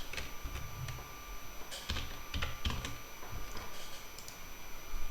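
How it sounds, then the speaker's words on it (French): Fingers type a website name on a computer keyboard, quick irregular key clicks in small bursts over a faint steady hum, close and fairly quiet, with no talking. "Vous allez sur Google et sur Google vous allez taper donc le nom du premier site"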